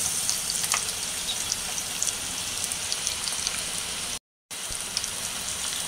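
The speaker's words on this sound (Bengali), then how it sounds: "আমাদের এখানে অনেক বৃষ্টি হচ্ছে, এখানে বাইরেও একটু শব্দ পাবেন" Heavy rain falls outside a home kitchen during cooking, a constant soft hiss of drops on surfaces with scattered sharper patters, broken by one brief silent gap.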